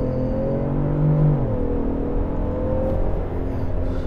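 A 2021 Ford Explorer 3.0 EcoBoost plug-in hybrid with a ten-speed automatic accelerates at full throttle, its engine drone loud and close inside the cabin, climbing and then shifting as speed builds, with no talk.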